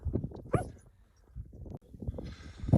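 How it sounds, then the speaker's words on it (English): A dog barks and yips repeatedly nearby while people talk beside a newly bought travel trailer, the short sharp barks mixed in with low, murmuring voices. "Dog won't shut up over there."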